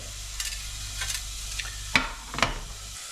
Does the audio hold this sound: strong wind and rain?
no